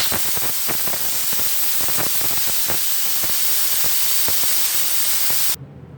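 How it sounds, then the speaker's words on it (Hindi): Steam hisses loudly and steadily from a pressure cooker of beef and potato keema as its whistle is lifted, a broad rushing spray with faint clicks that cuts off abruptly near the end. "मैं इसका सीटी उठा दूँगा।"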